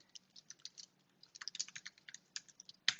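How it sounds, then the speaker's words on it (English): Light, irregular clicks of typing on a computer keyboard while entering login characters, soft and close, in short bursts with gaps and one sharper tap at the end. "you'll notice there I typed a few characters"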